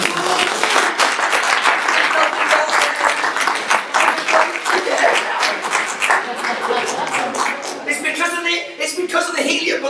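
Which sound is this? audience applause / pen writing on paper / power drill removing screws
audience applause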